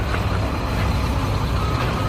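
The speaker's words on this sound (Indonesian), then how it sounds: "Wow, ada truk molen." A cement mixer truck on a road, its engine a steady, loud low rumble throughout with no pauses, close by and heard alone without voices.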